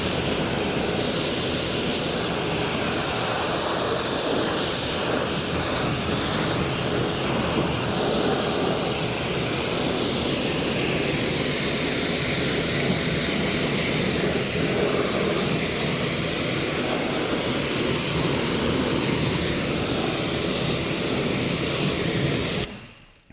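Water spray rinsing a car during a bug remover test, a steady loud hiss of pressurised water close by throughout, no talking.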